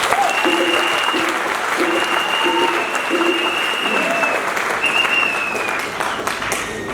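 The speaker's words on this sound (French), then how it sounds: "Je voudrais qu'on les acclame très fort." A large crowd at a political rally in Côte d'Ivoire bursts into loud, sustained applause with scattered cheers and whistles, strong throughout and easing slightly toward the end.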